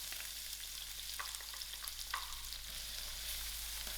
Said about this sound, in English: Allow my onions to fry out soft.